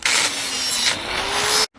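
Grinding with a flap disc on an angle grinder against a metal bracket, a steady loud continuous abrasive roar lasting nearly two seconds before cutting off abruptly.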